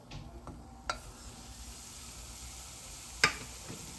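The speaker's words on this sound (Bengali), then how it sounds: "সুজিটা দেওয়ার পরে সঙ্গে সঙ্গে আমি এটাকে নেড়ে দিচ্ছি, নেড়ে ঘিয়ের সঙ্গে মিশিয়ে দিচ্ছি।" Semolina frying in ghee over medium heat as it is stirred, a quiet steady sizzle with a few faint scrapes and one sharp clink of the spoon against the pan.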